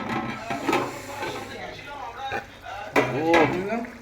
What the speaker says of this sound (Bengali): চল ঢাকনাটা খুলে দেই